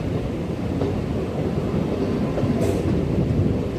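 An MRTS train at St. Thomas Mount station in Chennai rumbles steadily and loudly throughout, with a continuous low roar of wheels on rail and a brief high squeal near the end, no voices.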